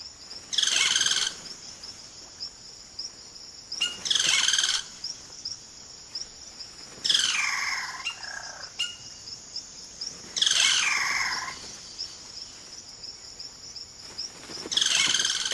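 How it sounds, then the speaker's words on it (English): Male caciques in the Amazon rainforest give showy calls to attract mates, heard as loud bursts of varied whistles, gurgles and rattling notes every few seconds, over a steady high insect drone, with no voices. "The cacique males now go about the important business of attracting a partner by puffing up their plumage and showing off their remarkable vocal range."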